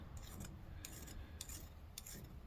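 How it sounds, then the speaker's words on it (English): A small round file deburrs the inside edge of a square, twisted copper wire cuff bracelet, making gentle, light rasping strokes in four short bursts at a steady rhythm, close and fairly quiet. "I'm just gently, not taking much material, just deburring that inside edge where it sits on the skin."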